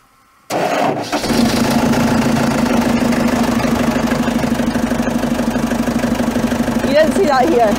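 Dumper engine started by overriding the starter: a sudden crank catches into a loud, steady, low diesel idle that runs close and continuous, with brief clatter near the end.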